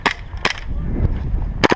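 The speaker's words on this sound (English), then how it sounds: "they're afraid of my dry firing." Airsoft revolver dry firing on an outdoor airsoft field: three sharp clicks or snaps, close and loud, two near the start and a pair at the end, over a rumbling, noisy background.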